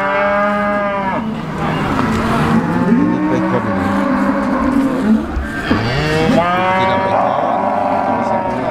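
Cattle at the Dimoro cattle market, including Limousin bulls and cows, moo loudly and close by in long, deep bellows, one after another, over crowd noise and a brief spoken remark.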